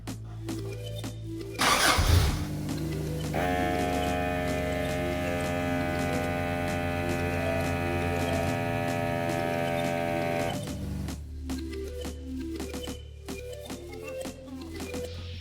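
An Iron Man 4x4 portable air compressor starts up and runs with a steady motor drone and whine while inflating a vehicle tire, then shuts off, with clicks and handling noises before and after.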